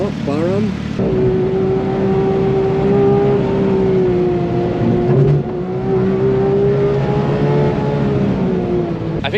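A Porsche 911 GT2 RS Manthey Racing car with Golf livery at a track day, its engine holding a strong steady tone after a rising rev at the start, with people talking over it.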